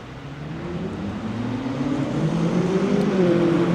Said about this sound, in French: Ferrari 458 Spider.